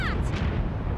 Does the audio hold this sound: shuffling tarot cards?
no